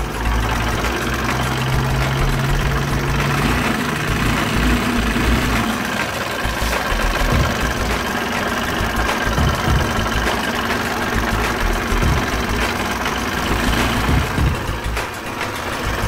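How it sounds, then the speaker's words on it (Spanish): A DS150 motor scooter engine idles steadily, close up, with a rough rumbling from the clutch area and damaged rollers that leave it short on power. "tiene un ruido muy feo aquí en la parte de clutch"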